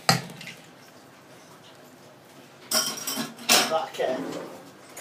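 Hand-mixing no-yeast bread dough in a pan, heard as soft squishing and scraping with metal clinks from a spoon or fork against the pan, in a few bursts separated by quieter stretches.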